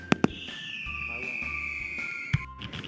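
Fireworks crackle and twinkle as a bright, sustained whistling tone glides slowly downward, punctuated by a few sharp pops at the start and near the end.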